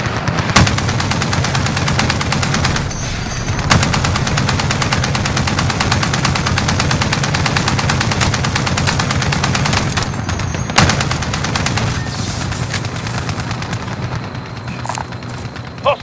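Sustained machine gun fire in a video game, rapid and continuous bursts lasting the whole stretch with brief pauses, loud and close, heavy engine rumble underneath.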